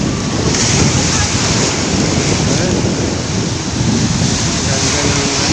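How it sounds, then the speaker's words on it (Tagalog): Strong surf at a beach as the tide rises, a steady loud roar of breaking waves mixed with heavy wind buffeting the microphone, continuous throughout with no clear pauses. "Malakas ng alon."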